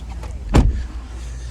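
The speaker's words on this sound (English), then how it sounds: "We have our 8-way power driver seat adjustments right there." The 8-way power driver seat of a 2024 Chevrolet Silverado 1500 Custom Trail Boss adjusts with a brief electric motor whir and a soft thump, close up in the quiet cab, lasting about a quarter second with no speech.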